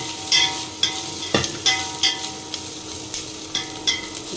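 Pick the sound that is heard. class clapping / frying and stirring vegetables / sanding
frying and stirring vegetables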